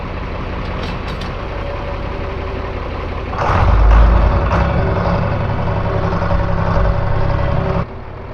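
A farm grinder mixer runs during a test after repairs, a loud steady mechanical drone with a heavy low rumble that swells as the load engages, then drops off abruptly near the end.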